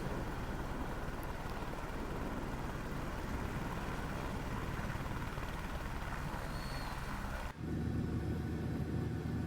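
Turbine whine and broad rumble of an Airbus H125 helicopter in Microsoft Flight Simulator, droning steadily and fairly loud, then shifting abruptly to a deeper, lower-pitched tone near the end.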